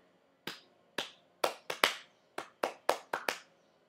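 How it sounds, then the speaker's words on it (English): A small child claps hands, about ten sharp, close claps in an irregular rhythm with a brief pause partway through, in an otherwise quiet room. "Clap your hands. Go on, clap."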